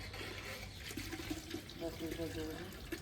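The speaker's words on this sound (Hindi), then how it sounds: "और अब दूसरे डिब्बा दूध जाने वाला है।" Milk pours from a large container into a big pot for ten litres of village-style kheer, a steady liquid splash and gurgle running throughout with a low background hum and faint voices.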